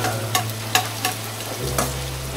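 Ginger sautéing in a pan, stirred in short scraping strokes that come roughly every half second over a steady low hiss and hum, close and moderately loud.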